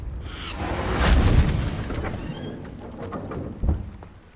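A Confringo blasting spell in Hogwarts Legacy goes off with a deep booming explosion that swells and slowly fades, followed by a second, sharper thud.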